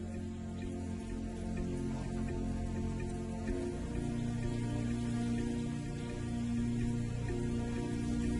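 Steady rain falls in the Botswana wilderness where lions play, a continuous dense patter blended with a low sustained musical drone, even in level throughout.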